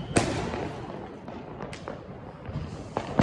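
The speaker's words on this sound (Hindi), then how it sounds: "आप देख सकते हैं खूब चल रहे पटाखे" Diwali firecrackers burst outdoors in a scattered series of sharp cracks and thuds, several separate pops over a steady background hum, moderately distant and not very loud.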